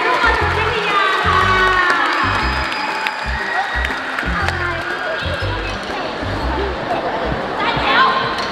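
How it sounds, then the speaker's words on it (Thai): At a school marching band contest, a large crowd applauds and cheers loudly, with shouts and whoops over the clapping and a rhythmic low drum thumping underneath throughout. "ขอเสียงปรบมือเป็นกำลังใจให้กับโรงเรียน"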